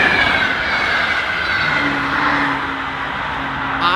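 A train passes close by in a steady, loud rumbling roar with a long, rising tonal whine over it, no voices, continuous throughout.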